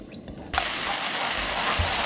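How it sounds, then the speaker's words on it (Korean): A seasoning sauce of soup soy sauce and garlic boils vigorously in a pan, starting abruptly and then holding as a loud, continuous bubbling sizzle with no talk. "양념이 바글바글바글 끓고 있죠?"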